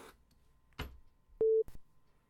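A single short electronic phone tone sounds clearly after a call drops, set between a few quiet clicks and handling noises.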